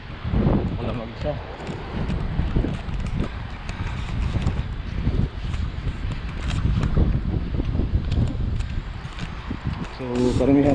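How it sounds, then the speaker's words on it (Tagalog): Strong night wind during a dust storm in Dammam, a steady broadband roar and buffeting across the whole span with gusty fluctuations, with faint voices and other sounds mixed in. "Malakas yung hangin,"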